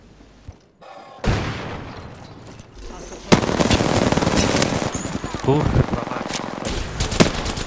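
Automatic gunfire in Apex Legends, loud rapid bursts building after a short quiet start and continuing densely, with a man swearing briefly over the shooting.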